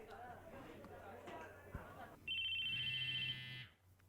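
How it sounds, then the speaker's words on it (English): A mobile phone rings loudly in a classroom scene of a visual novel video game, a steady electronic tone that cuts in after background game audio and runs for over a second before stopping. "A loud electronic noise echoed through the classroom. I felt a slight vibration near my chest. It was my phone."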